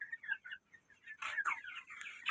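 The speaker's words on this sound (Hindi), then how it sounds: "देसी मुर्गियाँ भी खड़ी हुई हैं" Several desi (native breed) chickens cluck and murmur nearby in quick, uneven bursts. The calls are fairly soft at first and grow denser and louder in the second half, with no talking.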